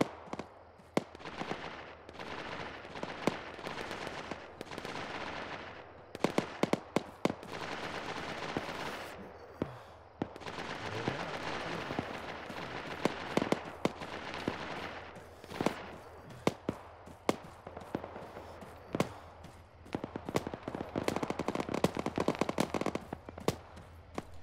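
Rounds fired in the Arma military game, a long stretch of dense, cracking bursts of rifle and machine-gun fire, some near and loud and others more distant, over an unbroken battlefield rumble.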